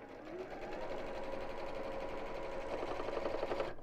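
Sewing machine stitching a 1-inch-wide fabric strap for a messenger bag, a steady close running whir that holds evenly for the whole stretch with no talk.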